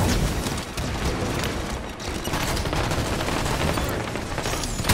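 Dense, sustained barrage of gunfire and explosive booms from a rocket strike in the video game Call of Duty Warzone, loud and continuous for several seconds with crackling bursts layered over heavy low rumble.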